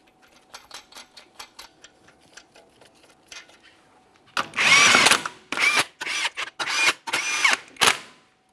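Impact tool spinning 21mm lug nuts onto a Mitsubishi Lancer front wheel: faint light ticking first, then a series of loud, close, short bursts of rattling power-tool hammering separated by brief pauses.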